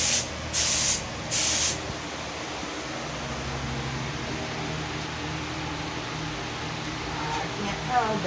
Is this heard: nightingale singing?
no